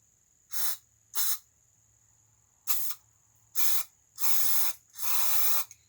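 Short hissing bursts of aerosol spray through a straw nozzle while cleaning a Holley carburetor on a 1979 Mopar 360, six in all, the last two held longer, with quiet gaps between them.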